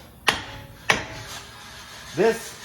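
Two sharp metallic taps of a hammer on a CV axle of a Dodge Dart during hub and wheel bearing replacement, close and distinct, followed by a short tonal sound.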